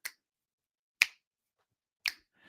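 Three crisp, sharp finger snaps, spaced about one second apart, stand alone against near silence and are heard close up.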